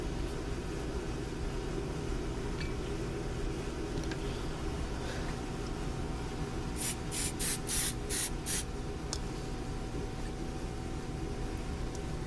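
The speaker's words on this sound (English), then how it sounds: "I'll give this a spritz of Ballistol." Several quick hissing bursts of Ballistol lubricant sprayed onto a Colt 1851 Navy revolver during reassembly, clustered together over a steady low background hum.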